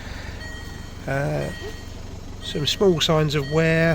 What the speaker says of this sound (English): It's going to beep because I've got the driver's door open.